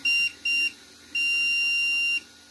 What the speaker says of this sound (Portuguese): Esses 3 bips que ele dá aí é o G-Code que eu faço a alteração também